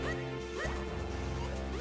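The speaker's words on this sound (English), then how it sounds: "it just smashes the pot on the ground and you just roll straight through it" In The Legend of Zelda: The Minish Cap, a clay pot smashes on the ground with one sharp crash midway, set against looping game music and short whooshing effects.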